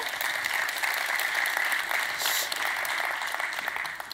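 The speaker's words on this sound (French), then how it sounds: "Oui, on peut les applaudir, vous avez raison." Sustained, even applause fills the room at the Virtuality XR Awards 2019 ceremony, a dense steady clapping from a sizable audience with no breaks.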